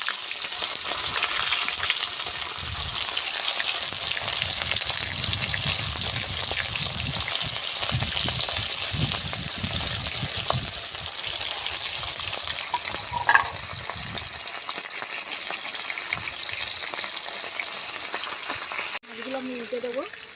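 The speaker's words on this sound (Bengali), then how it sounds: "এবার আমি একে একে মাছগুলো ভেজে নেব।" Fish fries in hot oil one piece at a time with a continuous bubbling sizzle and crackle, briefly joined by a splash and a sharp clink near the end.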